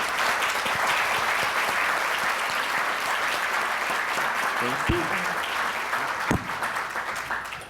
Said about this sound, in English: Can we give our panelists a round of applause?